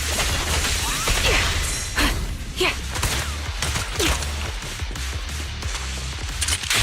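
Rapid suppressing gunfire in the video game Zenless Zone Zero, a loud, dense run of shots and impacts with mechanical clatter and whooshes, continuous over several seconds.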